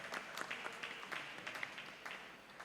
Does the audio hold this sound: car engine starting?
no